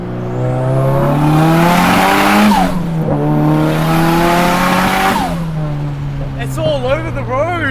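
A big-turbo 2.35-litre stroker SR23 Nissan S15 Silvia screams with a loud, sustained engine note as its tires squeal and lose traction, with pitch rising and dropping through gear changes and a wavering squeal near the end.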